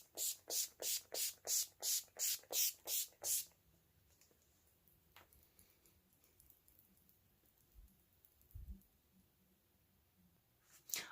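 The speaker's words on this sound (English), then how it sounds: "now I'm going to set my face with the mesmerizing setting spray" A makeup setting spray is pumped onto a face in nine quick, evenly spaced hissing bursts, each close and crisp, followed by quiet handling noises and a couple of soft thumps.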